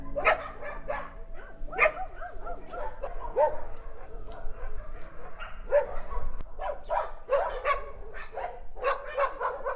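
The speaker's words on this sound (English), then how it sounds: "surprisingly many dogs which are barking all the time" Several dogs bark repeatedly at varying distances in a town on Chiloé Island, Chile, sharp yaps and woofs overlapping in an irregular chorus, with occasional whimpers between barks.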